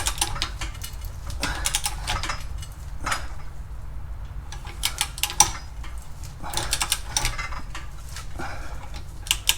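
A torque wrench ratchets on a Toyota Sienna trailing arm bushing bolt. Sharp metallic clicking comes in repeated short clusters with brief pauses between strokes, close up in a garage.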